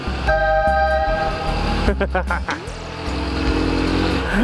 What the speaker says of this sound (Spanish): desde que tengo esta bocina me encanta hacer esto